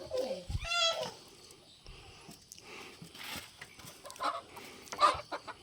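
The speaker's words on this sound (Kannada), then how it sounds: "ದೊಡ್ಡ ಕಾಂಡಿ ಕೋಳಿ" A large hen clucks near the microphone in a quiet rural setting, with a few short rising clucks and squawks at the start and more scattered clucks later, separated by pauses and soft background rustle.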